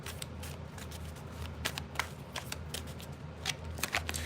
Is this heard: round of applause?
no